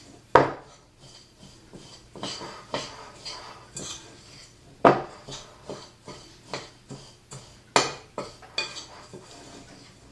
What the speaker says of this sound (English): So you want to get them all stirred together.